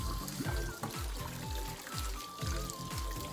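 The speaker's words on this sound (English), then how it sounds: "And I'll run a little bit of cold water on them." Cold water running and splashing steadily from a tap over potatoes in a pot, with faint pulsing gurgles and some background hum.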